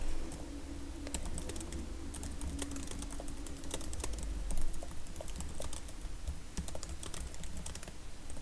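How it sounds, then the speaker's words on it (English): Typing on a computer keyboard, a rapid irregular stream of sharp key clicks at close range, continuing steadily with short pauses and no talk. "I'm going to type a sentence underneath here."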